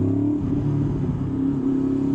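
A V4 four-cylinder motorcycle pulls in second gear at low revs, a steady, close engine drone with a smooth tonal hum and no talking.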